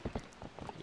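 Epona's hooves clip-clop in Zelda: Twilight Princess, a handful of soft, evenly spaced game-sound hoofbeats at a walking pace, fairly quiet and brief.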